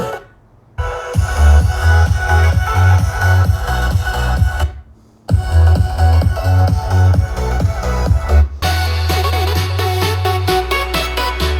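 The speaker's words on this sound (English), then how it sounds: "This is a portable Bluetooth speaker." Loud music with a pounding beat and heavy bass plays from a Tribit StormBox Blast 2 portable Bluetooth speaker in three sections split by brief silences, the last section changing to a different sound.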